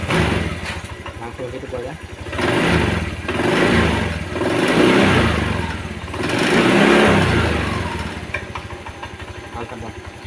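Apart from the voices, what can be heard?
Honda Vario 125 motorcycle engine started and revving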